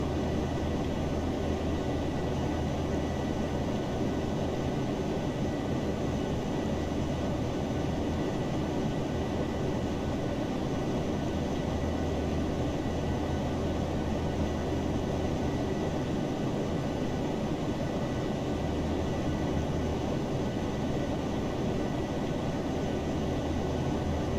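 An airliner's engines during the climb, heard in a flight simulator: a steady broadband roar and hum that holds constant throughout with no voices.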